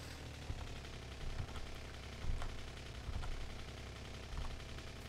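Gun turrets firing in Factorio, faint rapid bursts of automatic gunfire coming in short clusters over a low, steady background hum, distant and quiet, with no talk.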